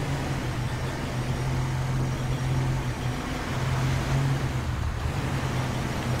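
Ford F-350 truck driving through snow in Grand Theft Auto V, a steady low engine drone and road rumble with a constant hum, no voices over it.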